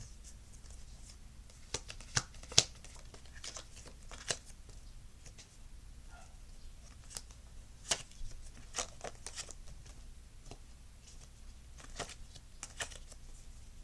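Tarot cards are handled and shuffled close by in a quiet room, giving irregular soft riffles, slaps and paper flicks with gaps between them and no talking.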